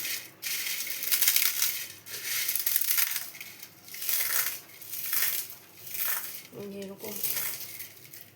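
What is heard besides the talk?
crushing a packet of Kurkure snacks by hand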